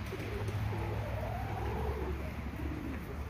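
Pigeons coo in a steady, murmuring run of soft calls outdoors at an animal attraction, with a constant low background hum beneath them.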